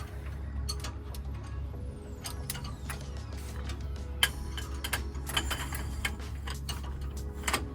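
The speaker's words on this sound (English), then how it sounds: "torquing it down to factory specs, 129 pounds" A torque wrench tightens wheel hub bolts on a 2018 Ford F-150 XLT 5.0 to 129 pounds, giving sharp repeated ratcheting clicks over a steady low hum, close and fairly loud, with no talking.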